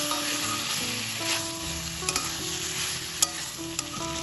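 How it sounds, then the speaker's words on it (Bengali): Ridge gourd and potato curry being stirred with spices in a pan: continuous sizzling with spatula scrapes and a couple of distinct clinks, over a faint steady tonal hum. "সব কিছুকে আবারও হালকা একটু নেড়ে চেড়ে দেবো।"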